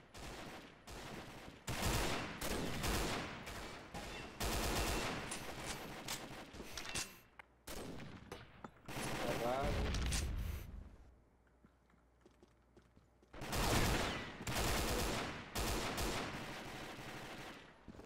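Rapid bursts of automatic gunfire from an LR300 rifle in the game Combat Arms crackle in repeated volleys, loud and close, separated by short quieter gaps with faint game ambience.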